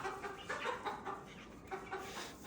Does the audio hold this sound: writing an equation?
no